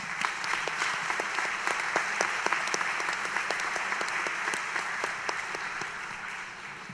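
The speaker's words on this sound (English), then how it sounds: "let's take a few seconds to give yourself a round of applause" Convocation audience at a university gives a round of applause, a broad, continuous crowd clapping heard from a distance, steady and even with scattered sharper claps standing out.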